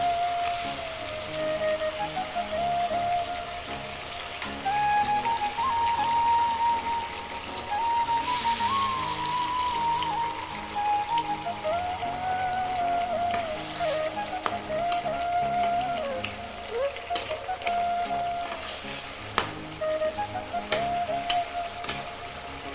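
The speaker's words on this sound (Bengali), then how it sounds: "মশলার জলটা কিছুক্ষণ ফুটে গেছে, এর মধ্যে দিয়ে দিচ্ছি ভাজা মাছগুলো" Fried pangas fish pieces simmer in boiling spiced water, giving a continuous soft bubbling hiss under a wavering background melody.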